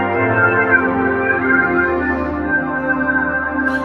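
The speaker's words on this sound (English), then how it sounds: "you can just pull up just amazing type of pad sounds like this guy" A lush synth pad from a Yamaha YC61 stage piano holds smooth layered chords, steady and full, with gentle shifts in the lower notes and no voices.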